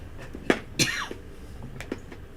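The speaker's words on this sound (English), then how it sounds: "Now I'm coughing." A couple of sharp, close coughs in quick succession, followed by quieter throat noises and breaths.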